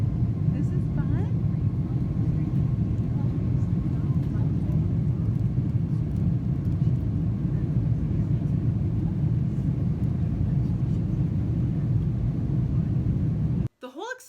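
Constant low roaring drone of an airplane cabin during flight, steady and loud throughout, cutting off abruptly near the end with a brief faint sound after.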